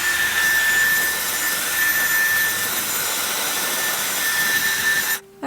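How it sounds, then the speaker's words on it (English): A Dyson Airwrap blow dryer attachment blows hot air through medium-length hair, a loud continuous whooshing hum with a faint steady whine, cutting off abruptly at the end. "I'm gonna run it through the blow dryer just one last time"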